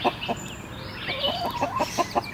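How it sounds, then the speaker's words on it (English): Repeated short clucks from an old hen eating potato salad in a steady, choppy rhythm, close by, with soft background noise and no talking. "Old hen is loving that potato salad."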